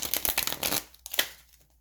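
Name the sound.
shuffling tarot cards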